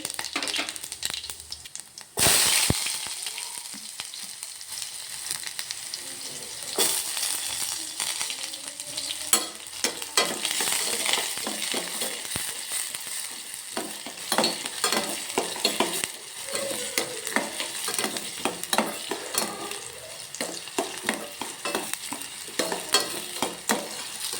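Mustard seeds and cumin sizzling in hot oil for a putani chutney, a steady frying crackle with sharp popping bursts and occasional stirring, close and fairly loud.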